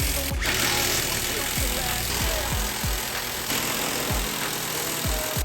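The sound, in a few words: power tool tightening down a swing-up vise stand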